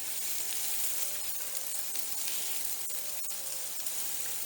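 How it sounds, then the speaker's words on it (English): Pork loin searing in about a teaspoon of olive oil in a pan, giving a steady, continuous sizzle that holds at an even, moderate level throughout with no talking. "I am going to take out my meat and I am going to let it sear on both sides."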